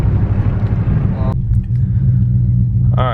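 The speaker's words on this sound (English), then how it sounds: "I'll just do a second gear rip." A cammed Hemi Ram pickup truck with a ported 6.4 intake manifold accelerating hard in second gear, a loud, close, steady engine rumble that drops in pitch at a gear change partway through, with voices murmuring underneath.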